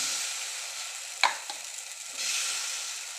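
Food fries in oil on a griddle, a steady close sizzle with a single sharp tap of a utensil partway through and the hiss swelling again toward the end.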